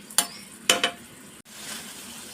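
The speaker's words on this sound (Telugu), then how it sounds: "టమాటా చట్నీ కోసం టమాటాలు మగ్గాలి" Tomatoes fry in oil in a pan for tomato chutney, giving a soft, steady sizzle punctuated by a few sharp utensil clinks against the pan early on.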